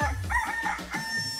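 A woman imitates a rooster's crow, a drawn-out rising-and-falling call delivered loudly and close to the microphone, with a few pitch breaks across the phrase.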